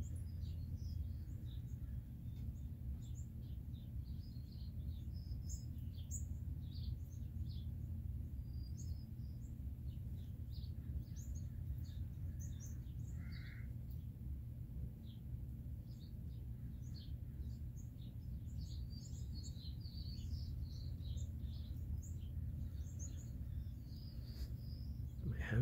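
Scattered small bird calls and chirps outdoors in winter, faint and intermittent over a steady low rumble of background noise, with a few soft tweets now and then throughout.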